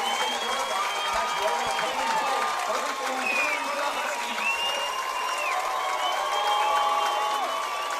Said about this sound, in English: Husky crowd showing their appreciation for the defense.